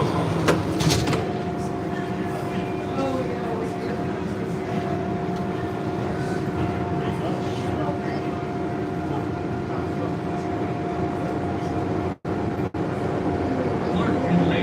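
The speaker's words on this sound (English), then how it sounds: "Doors closing." A Chicago Blue Line subway train bound for O'Hare rumbles steadily as its doors close and it pulls away, a continuous loud roar with a low hum and a brief dropout near the end.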